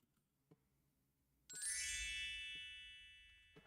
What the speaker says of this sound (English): I like this chime sounds.